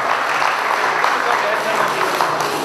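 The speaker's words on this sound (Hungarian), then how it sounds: "egy nagyon nagy taps megilleti" Crowd applause after a boxing match in Szentes, Hungary, won by knockout: steady, dense clapping that fills the whole stretch at even loudness, with speech mixed in.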